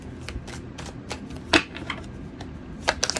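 Tarot cards are shuffled and drawn by hand in a series of quick, crisp riffling flutters and soft slaps, close and fairly quiet, with a few sharper snaps near the end and no voice.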